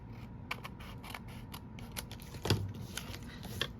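Paper being cut for an accordion pop-up card with double borders: a run of short, crisp snips at a steady pace, close and clear, with one louder rustle partway through and no talking.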